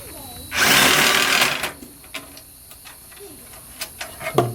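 A power screwdriver whirs in one steady burst of about a second while screws come out of a Ryzen 7 3800X PC build, followed by faint clicks and small handling taps.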